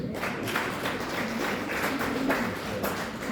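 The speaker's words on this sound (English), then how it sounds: "can you clap hands for them?" Audience clapping for school staff at a parents' meeting, a dense steady patter of many hands filling the room throughout, with no one speaking over it.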